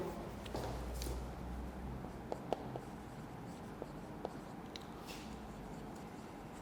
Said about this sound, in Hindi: इसको मैं लिख भी देता हूँ।